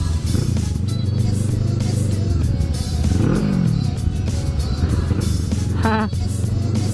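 Kawasaki NK650 motorcycle engine fitted with a Two Brothers aftermarket muffler, running loud and steady with a rising rev swell midway and a brief higher-pitched burst near the end, heard from close range outdoors.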